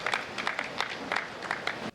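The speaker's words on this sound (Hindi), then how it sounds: "आपकी स्नेहिल तालियां उन्हें आमंत्रित करें।" An audience at a Hindi poetry gathering (kavi sammelan) claps warmly, a brief burst of dense, even applause that cuts off abruptly.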